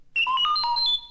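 R2-D2 beeps as the page-turn signal on a Star Wars read-along record: a quick, bright run of warbling electronic chirps and tones, just over a second long, clear and alone.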